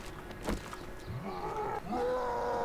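Snarling zombie roars from the survival game 7 Days to Die (Alpha 19), guttural growls rising over a noisy backdrop, with a louder sustained roar toward the end.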